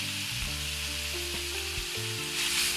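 Spinach for a Kerala cheera thoran with dried red chillies and salt is stir-fried in a pan, giving a steady, close sizzle that runs throughout without any talking.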